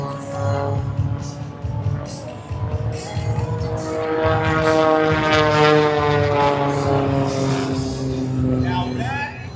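A propeller aerobatic plane performs a slow roll at an air show, its engine droning loud and close with a rising, wavering pitch as it passes overhead, with a voice talking over it.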